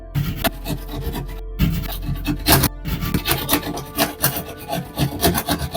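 Drywall being sawed and rasped by hand around a round in-ceiling speaker opening, with loud close scraping strokes in an uneven rhythm broken by brief pauses.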